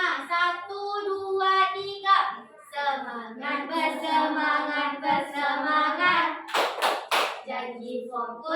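Children in a classroom ice-breaker chant together in rhythm, and a few sharp bursts of hand clapping break in near the end over their voices.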